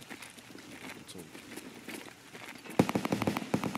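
A burst of rapid gunfire in the video game Escape from Tarkov, set outdoors on the Customs map, comes in as a cluster of sharp, distant-sounding cracks near the end of the clip, following quieter background noise.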